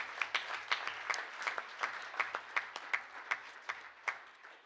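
A small group at a school board meeting claps for an honoree, a modest round of distinct, fairly sparse hand claps with a steady rhythm, close and clear, fading slightly toward the end.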